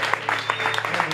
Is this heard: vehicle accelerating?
no